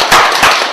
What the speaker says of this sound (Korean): 이 세 분에게 뜨거운 박수 좀